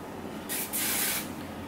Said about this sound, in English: I'm just going to start by putting some heat protectant spray.